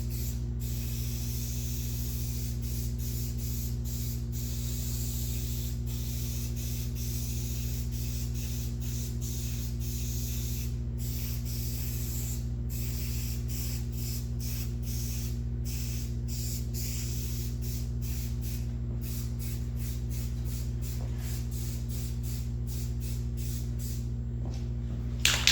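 Orange spray paint hisses steadily from an aerosol can at close range, a continuous spray running nearly unbroken for the whole stretch with only brief pauses, over a constant low hum in the background.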